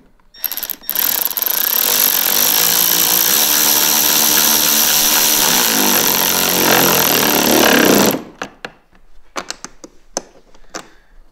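A power tool drives out screws on the hood of a 2023 Ski-Doo Expedition SE 900 ACE Turbo snowmobile, a loud, harsh, sustained whirring burst of about seven seconds, then a few quieter clicks and handling noises.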